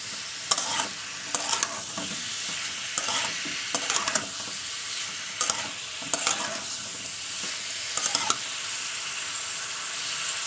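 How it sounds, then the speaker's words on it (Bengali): Tomatoes frying in a pan and being stirred, a constant sizzle broken by repeated scraping strokes of a utensil every second or so, close and clear with no voices. "জোরে দেওয়ার পরে ভালো করে আবার একটু নেড়ে নেবেন।"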